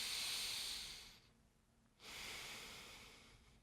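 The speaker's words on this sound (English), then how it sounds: "deep breath in" A person takes a deep breath during a shoulder stretch exercise, heard close as a soft airy hiss that fades into a brief pause and then resumes as a second breath.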